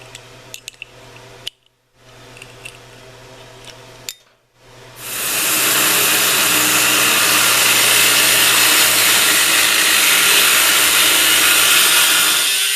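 A Harbor Freight 4-inch angle grinder starts after a few quiet clicks and handling noises. It spins up into a loud, steady, high-pitched whine that stays constant for about seven seconds.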